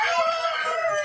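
A Bisaya native rooster, a fighting-cock breed, crows once up close, a loud, strained, tonal call filling the short moment.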